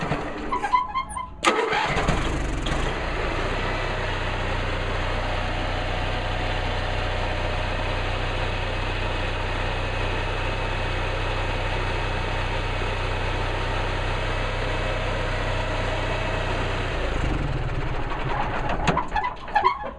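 An RV engine cranks with short sharp bursts, fires up and settles into a steady, loud idle that runs for a long stretch before clattering sounds at the end.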